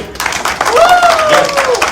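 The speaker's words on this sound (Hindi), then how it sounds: "एक बार सर के लिए जोरदार तालियां हो जाए।" An audience applauds a speaker, Dhuleshwar Sahu, at a Kalpamrit gathering. The clapping is dense and steady for about two seconds, with a rising and falling whistle or cheer riding over it.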